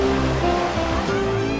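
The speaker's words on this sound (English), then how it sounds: "Kenny Reynolds and Gavin Tarr successfully negotiating the rapid" Rushing whitewater on a river rapid during a canoe marathon on the Fish River, as a steady loud roar with no break.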